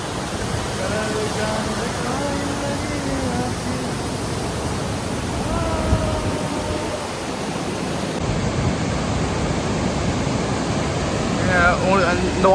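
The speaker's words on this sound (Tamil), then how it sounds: "சரியான வாட்டர் ஃபால்ஸு பயங்கரமாக இருக்குது" Broad, steady rushing roar of Viripara waterfall in Munnar, Kerala, filling the scene at close range, with voices talking faintly over the constant water noise.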